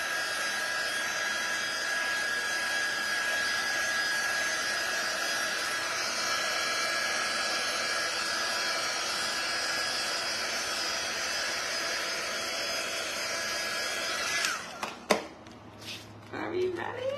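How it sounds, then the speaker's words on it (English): A hair dryer blows steadily at close range for most of the clip, then cuts off, followed by a few handling clicks and knocks. "let's hit it with our dryer"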